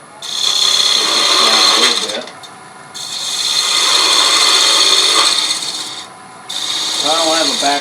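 A woodturning lathe cuts a bead on a walnut box, giving three loud, close passes of harsh scraping hiss from the tool on the spinning wood, separated by short pauses where the lathe hum continues.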